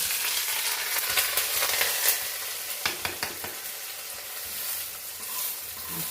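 Curry leaves dropped into hot oil for a Kerala koottukari, a close, loud sizzle with a few sharp spattering pops partway through, then a steadier hiss with stirring, no talk.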